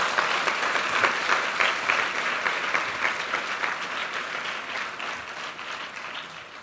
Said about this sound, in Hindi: आइए हम प्रभु के लिए एक अच्छी ताली बजाएंगे मिलके।